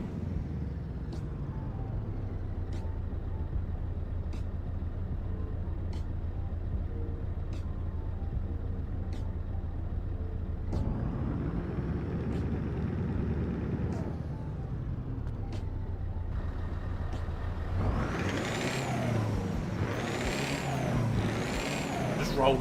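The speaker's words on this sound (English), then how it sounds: "Just love the sound of this truck." A Scania 143 V8 truck in Euro Truck Simulator rumbles steadily with a deep engine drone, punctuated by regular sharp air-brake hisses and rising revs toward the end, loud and close with no talk.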